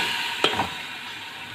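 Chicken frying in oil in a pot over a medium-high flame makes a steady soft sizzle with one brief clatter of stirring, fairly quiet and without voices.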